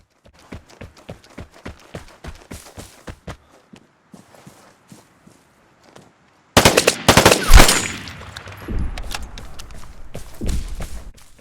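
Rapid automatic fire from an M4A1 rifle in the video game Vigor, a loud sustained burst of shots after a stretch of quieter rhythmic footstep-like taps.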